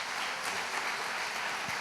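A church congregation claps together, giving steady, moderately loud applause that carries on without a break and with no voices over it.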